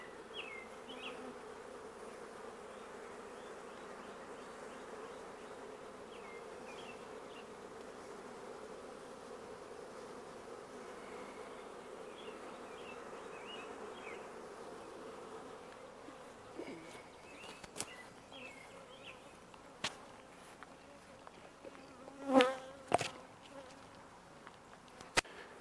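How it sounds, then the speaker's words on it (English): Honeybees swarm around an open hive in a continuous, moderately loud buzzing drone, with individual bees passing close by, then a few sharp knocks and handling sounds near the end. "we got bees everywhere"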